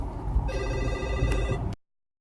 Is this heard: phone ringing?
yes